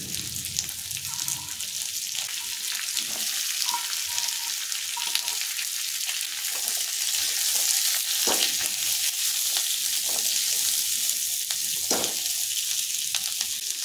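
Ginger and onion, with garlic, fry in a pan for a chicken dish: a continuous close sizzle with scattered pops and occasional sharp utensil clicks, no talking.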